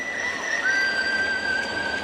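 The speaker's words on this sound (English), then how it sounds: "By the way, if we hear that whistle, I've got info now." A stadium whistle sounds at a Toronto Blue Jays versus New York Yankees baseball game right after a Blue Jays strikeout, a long sustained shrill tone wavering slightly in pitch over steady crowd ambience, lasting the whole two seconds.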